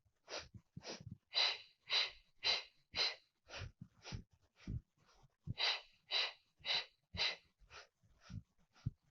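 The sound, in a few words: heavy breathing during a workout exercise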